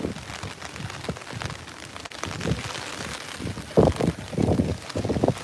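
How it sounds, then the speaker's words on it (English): Typhoon wind and rain buffet a crowd holding clear umbrellas at a Tokyo closing ceremony, with a steady wash of rain and gusting wind noise on the microphone that surges louder toward the end. "the Typhoon wind is picking up a little bit now"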